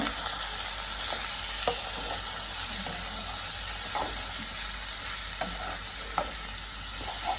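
Long beans sizzle steadily in hot oil, a constant loud frying hiss with occasional soft clicks from stirring.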